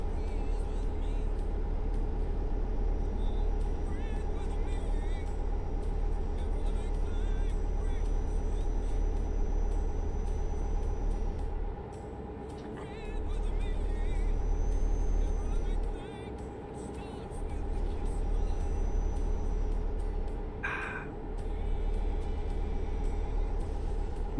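A semi truck in Euro Truck Simulator 2 cruises on a highway: a steady engine drone with a low rumble and a constant hum continues for the whole stretch, briefly dipping twice. A voice talks over it.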